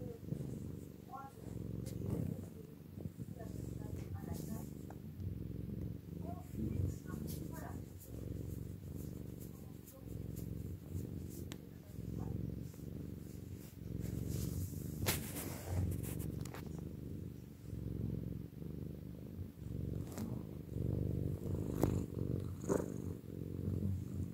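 Several pet cats purr steadily on a crocheted piece draped over an armchair, a close, continuous soft rumble that runs for the whole stretch with faint rustles and occasional small knocks on top.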